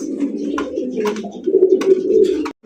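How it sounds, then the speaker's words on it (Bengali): Sky-blue Rajgolla pigeons coo close by in a pigeon market, a low, rolling, continuous purr that swells louder toward the end before cutting off abruptly. "এখানে রয়েছে আরো একজন আকাশি কালারের রাজগোল্লা কবুতরের কালেকশন দেখতে পাচ্ছেন"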